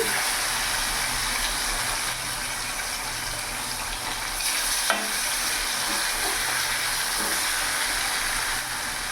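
Silver carp pieces fry in hot oil with a dense, even sizzle and hiss close by, and a brief clatter midway as pieces are lifted out, with no voices.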